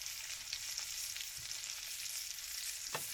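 Salted butter sizzling and crackling steadily in a hot pan as beef cutlets fry, with a few soft clinks and scrapes of utensils; no talking.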